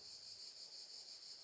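A steady, high-pitched insect drone, like cicadas or crickets, buzzing continuously and evenly throughout, with no other sounds.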